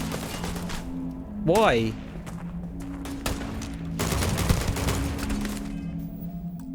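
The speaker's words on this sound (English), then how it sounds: "Why are they shooting me?" Gunfire erupts in the sci-fi video game Starfield, with sharp rapid bursts and a thick fusillade in the middle and later stretches under a game score, while someone speaks briefly.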